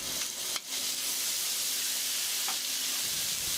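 Minced garlic sizzles and fries steadily in hot oil for a Cantonese stir-fried eggplant with salted fish dish, a close, continuous hiss with a brief dip near the start.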